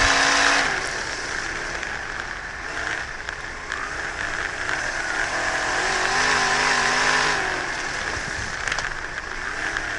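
A race car with a fuel-injected 350 or 360 Chevy engine roars steadily, its revs rising and falling as it passes at a loud, sustained level, with no talking.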